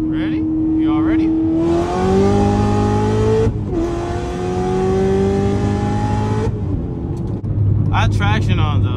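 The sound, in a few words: 800hp manual Corvette C7 ZR1 accelerating in second gear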